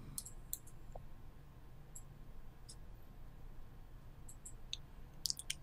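A computer mouse gives several faint, sharp clicks, scattered irregularly and ending in a quick cluster, over a quiet steady background hum.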